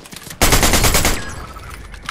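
Shotgun fire in the video game Fortnite: a loud, close burst of rapid blasts cut off abruptly, followed by a decaying tail, with no talking.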